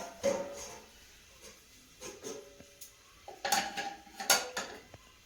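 A metal lid set over a pot of small fried fish in a kitchen, a few scattered clinks and clatters of pot and lid, close and fairly quiet with pauses between knocks.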